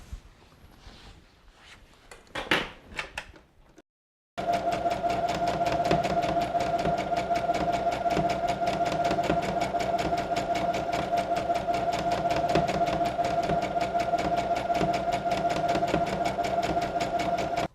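After a few quiet seconds of handling, a sewing machine stitches fabric for a bag, its motor running in a continuous close, even whirr with a fast rhythmic needle chatter that carries on to the end.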